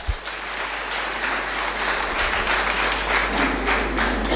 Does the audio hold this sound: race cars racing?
no